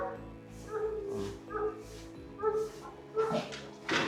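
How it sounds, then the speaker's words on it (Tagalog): Wild dogs bark and yip in short, irregular bursts, some whimpering, at moderate distance against a low steady background hum; a few voices murmur faintly beneath. "Yung mga asong gubat gang nakaabang"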